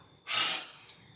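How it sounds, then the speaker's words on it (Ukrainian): A single sharp breath in a yoga breathing exercise, a quick close nasal rush of air that swells then fades, alone without talk. "Ще один раз вдих. Видиха."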